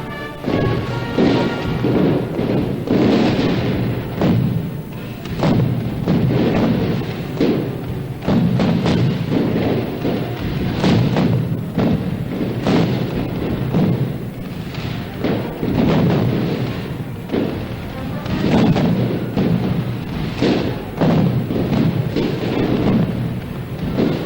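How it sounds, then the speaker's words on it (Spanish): A castillo fireworks display bursts over Valencia during the Fallas, with about 200 kilos of pyrotechnics producing a continuous barrage of booming thuds and crackling blasts, loud and rolling like thunder for the full stretch. "cerca de 200 kilos de fuegos artificiales para conseguir esta luminosidad que tenemos esta noche en el cielo de Valencia"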